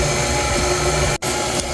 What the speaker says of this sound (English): Now, put our stand mixer to work.